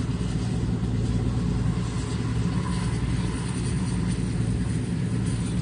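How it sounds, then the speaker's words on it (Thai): Custom turbocharged engine with a large 3.0-litre motor, fitted in a Jeep-style vehicle, idles and runs steadily with a dense low rumble, heard close and alone. "เครื่องยนต์ทำงานอย่างนี้ แต่งเทอร์โบมาให้ด้วยนะครับ"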